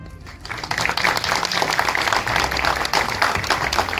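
Applause from an audience honouring a screenplay writer and director, a dense wash of clapping that swells in after a quiet start and holds steady at a loud level, with possible faint voices mixed in.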